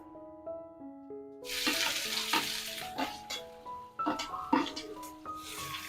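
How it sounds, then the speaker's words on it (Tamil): Onion slices sautéing in oil with whole fennel and a bay leaf in a home kitchen, a soft sizzle breaking in after quiet background music, with intermittent stirring clatter and scraping in the pan. "வெங்காயம் கொஞ்சம் வதங்கட்டும்."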